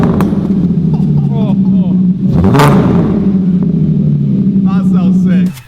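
A van fitted with a new Golf R exhaust runs close by with a deep, steady engine drone and a brief rev swell partway through, with low voices audible over it.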